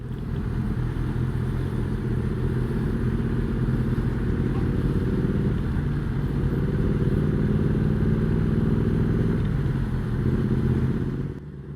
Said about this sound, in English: Even with the stock exhaust, you can hear some little pops and crackles